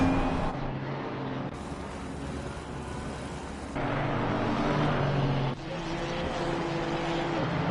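Aston Martin race cars lap the Indianapolis circuit in a racing video game, with a continuous droning engine note that shifts abruptly in level and pitch as the sound cuts between cars.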